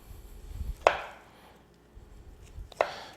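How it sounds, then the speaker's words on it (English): A knife cuts through smoked beef tongue on a board, giving two sharp, close thuds about two seconds apart with soft scraping between them. "Let me just take a slice off of this here."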